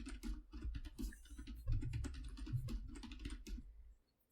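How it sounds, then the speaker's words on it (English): Someone types steadily on a computer keyboard nearby, a quick patter of key clicks with a few heavier presses, stopping just before the end, with no talk. "Just typing it out."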